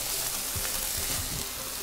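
Ground meat sizzles in a frying pan for a mac and cheese burger, a steady close hiss of frying fat with a few faint stirring knocks underneath.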